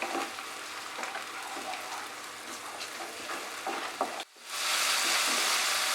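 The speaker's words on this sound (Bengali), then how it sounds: "পেঁয়াজ বাটাটা দিয়ে এটাকে আরো 2 থেকে 3 মিনিট আমি ফ্রাই করব। মাঝারি আঁচেই ফ্রাই করছি।" Onion paste fries in a pan over medium heat for a chicken korma, giving a steady close sizzle with a few soft stirring scrapes, then a sudden brief drop followed by a louder, brighter hiss.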